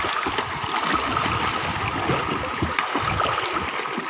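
Contestants swimming and splashing through water during a competitive game, a constant watery churn with scattered close splashes and gurgles, no voices heard.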